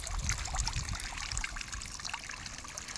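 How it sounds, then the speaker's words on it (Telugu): Water trickles and splashes steadily from a motor-driven pipe in a garden, a continuous close rushing flow with no voices. "ఇక్కడైతే వాటర్ వస్తున్నాయి"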